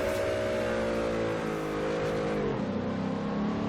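A Crown Victoria engine in Forza Horizon 3, revving hard near redline with a loud sustained roar whose pitch sags and then drops as the driver shifts, close and continuous throughout.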